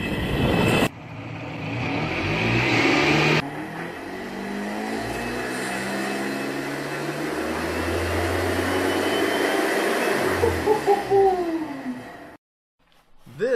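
An electric-converted 1995 SeaDoo XP jet ski throttles up, its motor whine rising and holding steady for several seconds, then gliding down in pitch before cutting out near the end; no talking.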